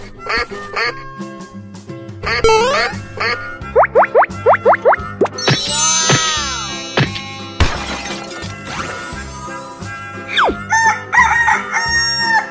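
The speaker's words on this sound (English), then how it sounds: "Chicken." A cartoon rooster crows over bouncy background music, its bright, stretched call rising out of a busy mix of quacks, boings and other comic sound effects.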